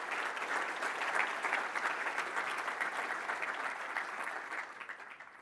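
A conference audience applauds steadily for several seconds, a dense even clatter of many hands that tapers slightly near the end, with no talking over it.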